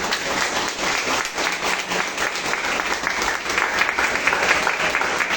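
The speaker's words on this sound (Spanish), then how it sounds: "Dale un aplauso al Señor por eso." A church congregation applauds during a sermon, giving sustained, loud, dense clapping that holds steady and swells slightly toward the end.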